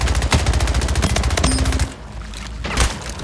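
Rapid SMG fire in the video game Splitgate: dense, rattling automatic bursts for almost two seconds, a short lull, then another quick burst, loud and close.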